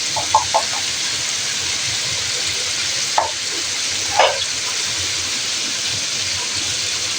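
Meat (gosht) fries with spices in a pan, giving a steady, close sizzle with a few scraping stirs of a utensil; there is no talk.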